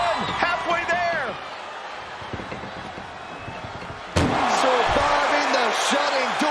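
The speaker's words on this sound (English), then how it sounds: "Surviving the shutting door and escaping the ambulance." A heavy ambulance door slams with a sharp metallic bang during a wrestling match in the WWE 2K25 video game, followed by a loud roaring arena crowd while a commentator talks throughout.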